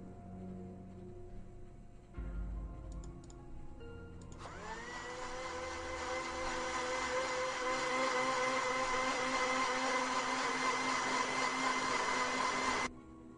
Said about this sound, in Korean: 믹서기의 칼날이 세차게 회전하자